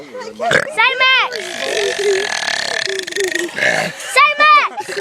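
A boy produces a drawn-out, gurgling burp in a burping contest, loud and close, with children's voices chattering briefly around it.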